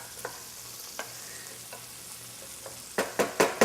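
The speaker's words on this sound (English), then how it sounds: "let's get a stir on our okra" Okra stirred in a frying pan under a soft, steady sizzle, with a few light scrapes early on and then four louder, rhythmic stirring strokes close up near the end.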